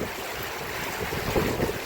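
Steady heavy rain in Banaskantha district with water running, a continuous broad wash of noise that swells slightly toward the end, no talking.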